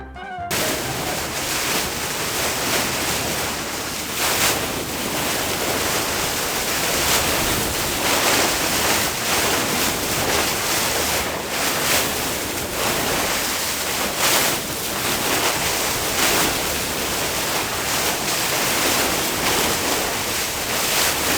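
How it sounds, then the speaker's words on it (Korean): A whale-watching boat off Newport Beach, California, cuts through ocean waves, producing a loud continuous rush of water and wind with surging swells, sustained throughout. "배가 파도를 헤쳐나가는 소리 한번 들어보시겠어요?"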